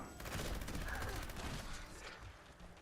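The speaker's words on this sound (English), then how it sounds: "bullets bouncing off my body." Gunfire in Fallout 76, a rapid volley of bullet impacts against the player character, dense clattering bursts that fade out over a few seconds.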